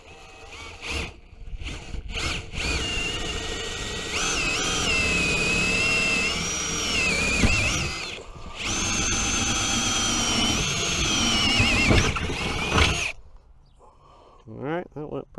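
Power drill whirring in several bursts while installing a ductless mini split, its motor pitch rising and dipping under load, close by with brief pauses between runs.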